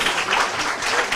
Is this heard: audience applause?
yes